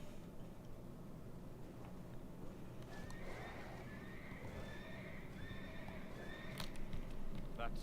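A horse in World of Warcraft gives a faint, wavering whinny partway through, with scattered hoof clops and soft game ambience around it.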